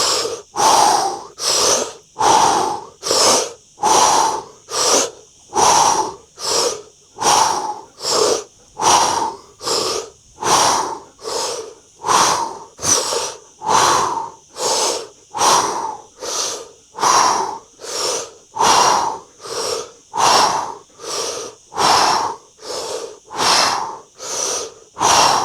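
Deep, rapid rhythmic breathing during a breathwork exercise, each forceful inhale and exhale close and loud, repeating steadily in an even pulse of about one breath per second with no talking.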